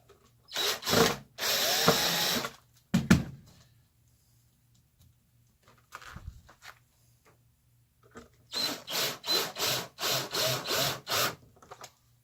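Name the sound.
power drill driving screws into wood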